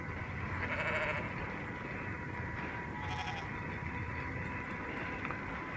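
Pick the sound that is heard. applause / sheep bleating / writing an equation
sheep bleating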